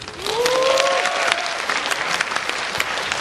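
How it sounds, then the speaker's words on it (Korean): Audience applause at a Korean film screening Q&A for Kore-eda's film, a warm steady clapping from a full hall that holds throughout, with a brief rising whistle-like tone early on and no talk. "관객 여러분들께 따뜻한 박수를 받고"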